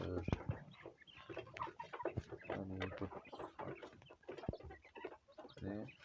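A flock of about forty hens and some twenty roosters in a warm coop clucking and calling together, a busy overlapping chatter of short clucks and squawks, close but fairly soft throughout.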